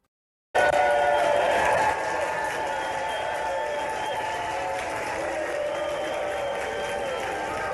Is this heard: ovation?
yes